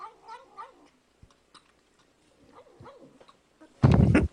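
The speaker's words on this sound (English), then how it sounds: "It's cat says nom nom nom while eating sour cream." A cat eating sour cream, giving a string of small vocal murmurs and soft wet smacking sounds, close and quiet, cut off by a sudden loud louder burst at the end.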